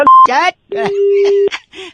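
A phone call ends with short electronic tones, one brief beep at the start and a longer steady tone in the middle, cut between quick bursts of speech.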